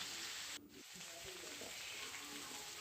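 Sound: chicken pieces frying in pan

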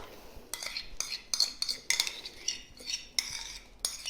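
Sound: yogurt being added to a bowl for vegan revani

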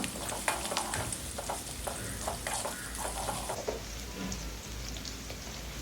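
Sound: sautéing onions, garlic, curry leaves and green chilies in oil

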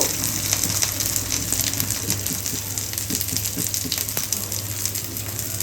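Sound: dried shark fish frying in a pan

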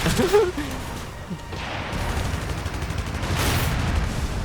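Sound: cannon fire in a Gundam video game

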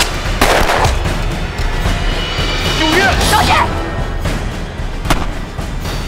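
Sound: gunfire in a war film

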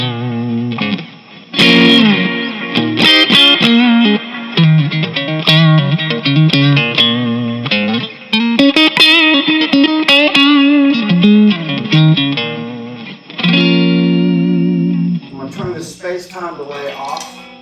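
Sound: electric guitar through amp, neck pickup

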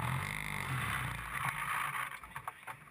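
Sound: Formula Ford race car engine running

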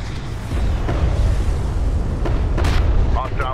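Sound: explosion of demolition charges in video game Homeworld: Deserts of Kharak

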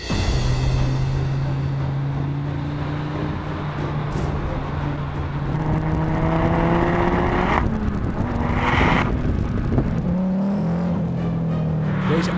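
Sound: Donkervoort D8 GTO sports car engine driving

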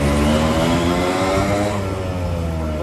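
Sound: motorcycle engine revving

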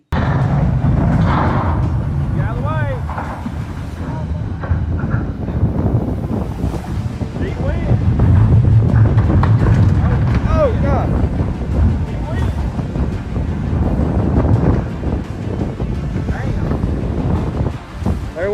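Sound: sea waves battering the coast

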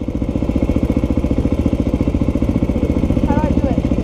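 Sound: motorcycle engine being started

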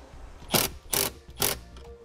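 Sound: ratchet tightening a 13 millimeter nut

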